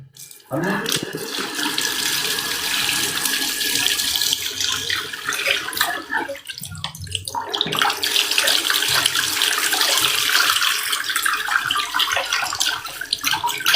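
Water runs loudly and steadily from a tap, close by, with a brief break midway before the gushing resumes; a voice is faintly present.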